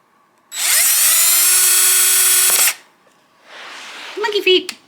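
Power drill whining at steady high speed for about two seconds before stopping, followed by a quieter rubbing scrape and a brief rising spin of the motor, close and loud.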